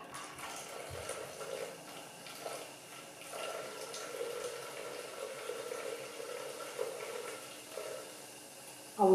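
Hugo cocktail or sparkling wine poured into a Thermomix bowl with lemon sugar for a strawberry Hugo cake, a faint, steady liquid trickle running quietly throughout with no talking.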